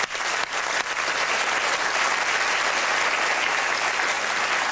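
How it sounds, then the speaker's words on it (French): Steady, dense applause from a studio audience fills the space, loud and continuous from start to finish, with no speech over it. "40 ans, ça s'applaudit."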